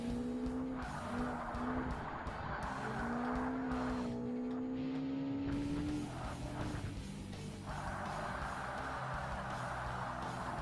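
A Lotus Exige sliding in Forza Motorsport, its tires squealing in sustained howls over the steady racing engine drone, the screech rising, breaking off and returning as the car slides out.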